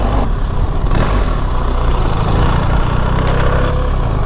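A BMW R1300 GS Triple Black motorcycle engine runs close by with a steady, rough low rumble, loud and continuous with no voices.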